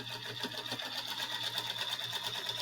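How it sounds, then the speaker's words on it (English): A sewing machine stitches a paper-pieced quilt block in a quick, steady whirring run of needle strokes, close and continuous with no talk. "you can just sew straight down that line."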